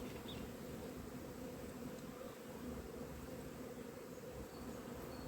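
A steady, faint hum of many honey bees buzzing together at a hive after winter, continuous and even, with no voices.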